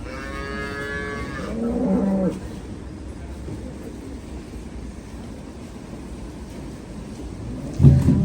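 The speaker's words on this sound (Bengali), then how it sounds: "এটা আমার অনেক পছন্দের একটা পাকড়া গরু" A spotted cow on a cattle farm lets out a long, loud moo near the start, followed by quieter farmyard ambience and a short low bellow at the end.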